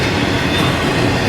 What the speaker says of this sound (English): ET44 AC, that's my favorite locomotive.